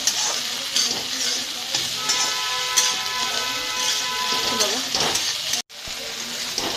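Okra bhaji (bhindi) fries in a pan with a dense, continuous sizzle while being stirred, with scraping strokes and a faint tonal hum partway through, then a brief cut near the end.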